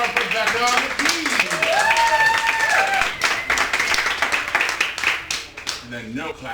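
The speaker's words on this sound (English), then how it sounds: "let's clap some more for Becca on the keys" Audience applause for the keyboard player at a live improv show, lively clapping with a host talking over it, tapering off toward the end.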